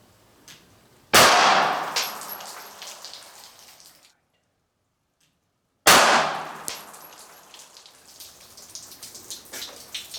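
Two loud 9mm Speer Gold Dot shots fired through denim into water jugs, each a sharp crack followed by splashing and clattering debris, with a silent gap between them.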